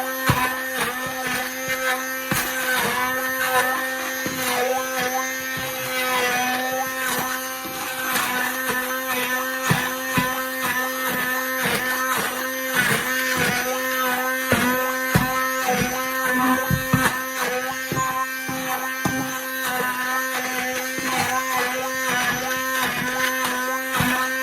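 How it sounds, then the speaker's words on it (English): Stick blender whirring through bacon jam in a tilted pan, a loud, steady motor whine with pulsing chopping bursts as the blade works the thick mixture, close and continuous for the whole stretch, no voices. "what I'm going to do now is just one of those stick blenders. Just going to give a little bit of a whiz"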